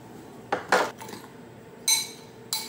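Pecans being crushed by hand for a pumpkin dump cake, giving a few short crunching and clinking bursts spaced apart, close up with no talking.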